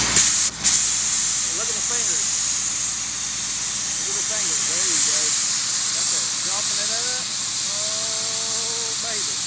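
A cutting torch is lit for beveling steel pipe on a worn bevel machine and gives a loud, steady roaring hiss close by, while a person speaks faintly beneath it.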